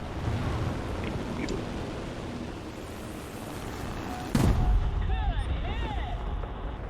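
A single heavy bomb blast hits tanks in the B 34 Ace air arcade game, booming over a steady roar of engine and wind noise, followed by faint whistling game effects.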